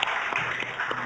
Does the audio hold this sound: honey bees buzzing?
no